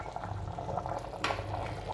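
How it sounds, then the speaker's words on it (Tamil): Pot of mutton curry boiling steadily, a continuous low bubbling and simmering with small pops, moderately faint and without voices. "இப்போ வந்து குழம்பு இது கொதிச்சுட்டு இருக்குது"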